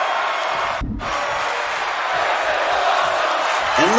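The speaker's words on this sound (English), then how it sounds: "the 203 inebriated fans cheering for him" A wrestling crowd roars steadily as a dense, loud wash of cheering and whooping, broken by a brief slam thud, while a commentator's voice runs on top.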